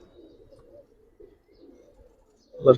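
Pigeons coo softly in a loft, a low murmuring coo repeating for a couple of seconds before a sudden louder thump or flutter at the end.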